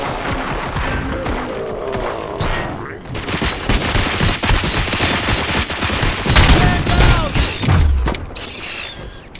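Gunfire erupts in a RoboCop Rogue City cutscene, with loud, dense volleys of automatic shots and booms. Mechanical clatter runs through a sustained, chaotic fusillade.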